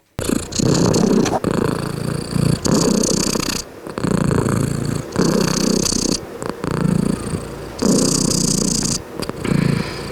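A cat rescued from a war zone and now living in a shelter purrs loudly and steadily right at the microphone, its rhythmic rumbling breaths broken by brief pauses.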